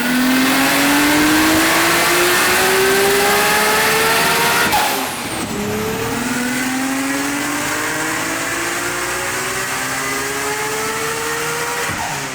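A Nissan R32 GT-R on a dyno screams up through its revs toward 9,500 RPM, loud and close, its pitch climbing steadily, then dropping briefly at a shift before rising again in a second sustained pull.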